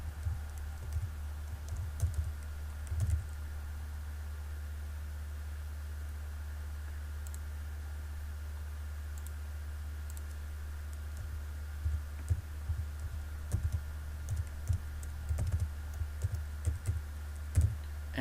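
Computer keyboard typing in a quiet room, with soft irregular key clicks in short bursts over a steady low hum, louder toward the end.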